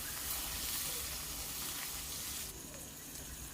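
Steady, close sizzling of potatoes frying in hot oil, a continuous crackling hiss with no voices, slightly quieter toward the end.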